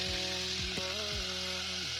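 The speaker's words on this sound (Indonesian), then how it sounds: "sambil goreng ikan" Fish frying in a wok at home at night, a steady broadband sizzle running throughout while background music with a sustained tonal melody plays over it; no talking.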